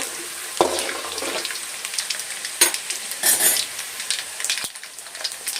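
Carrot, capsicum, onion and green chilli fry in a pan with a continuous crackling sizzle, broken by sharp scrapes and clanks of a spoon stirring the vegetables.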